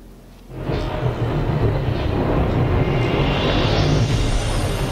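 A thunderstorm with heavy rain in the video game Final Fantasy XV swells in after a quiet start into a loud, sustained roaring wash that stays dense to the end.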